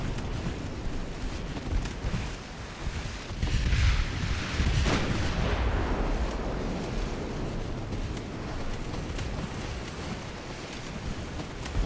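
Naval gunfire in Ultimate Admiral: Dreadnoughts, with Austria-Hungary battleships trading salvos: a dense, rumbling barrage of booms with a heavier burst near the middle, over a constant wash of sea and wind.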